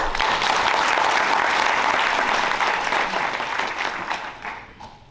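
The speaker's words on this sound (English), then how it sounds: "let's just give yourselves a round of applause" Sustained, dense applause from an evening NAACP event audience, loud and even throughout before tapering off near the end, with no speech over it.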